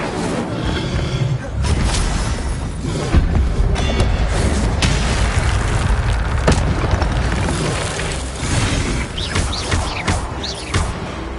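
A fire spell is cast repeatedly in the Hogwarts Legacy video game, heard as a dense, loud roar of booming bursts and crackling flame effects that continues without pause.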